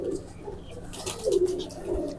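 A China pigeon coos in low, soft murmurs, close by and moderately quiet, with a few rolling coo phrases clustered in the middle of the clip.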